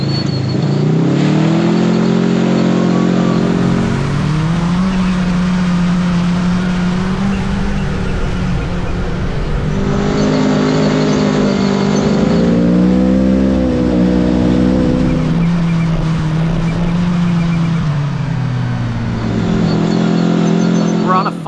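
A Kawasaki Teryx5 H2 side-by-side drives a trail with a loud, close engine drone that rises and falls as the throttle is worked. People talk over it throughout.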